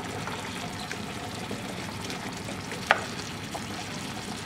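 Ground beef browning in a pan for sloppy joe mix, with a steady, close sizzle throughout and one sharp scrape or clack of a utensil chopping the meat partway through.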